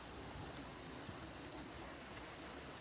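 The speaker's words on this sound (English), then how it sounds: "River Weir down by Shincliffe" River flowing over a weir near Shincliffe, Durham: a soft, continuous rush of water, fairly distant and even, with no talk.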